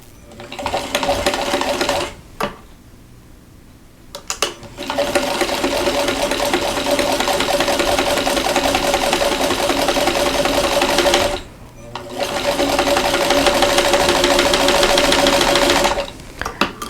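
A sewing machine stitches quilt block pieces along a diagonal line in three long, steady runs of rapid needle clatter, close and loud, with brief pauses between bursts.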